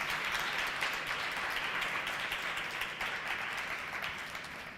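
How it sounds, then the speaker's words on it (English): Sustained audience applause after a poetry and music performance, a steady wash of many hands clapping that holds evenly and fades slightly toward the end, with no talking. "Let's give them another round of applause"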